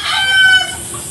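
A rooster crows once, loud and close, with a short bright call near a farm field, followed by a faint cluck as the call fades.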